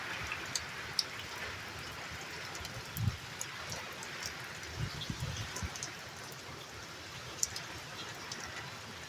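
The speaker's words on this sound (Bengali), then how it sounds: "বৃষ্টিও যেমন হচ্ছে হাওয়াও ছেড়েছে" Rain from Cyclone Remal, with wind, falls around a tin-roofed house: a faint, steady patter with scattered louder drips and occasional soft knocks, no voices.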